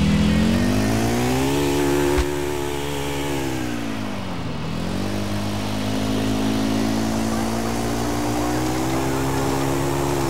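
The Sanchez motorcycle engine in GTA drones steadily, its pitch dipping briefly and then holding a sustained rev, loud and close throughout with no talking.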